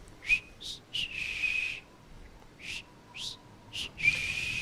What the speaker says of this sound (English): you start hearing almost like whistling out in the distance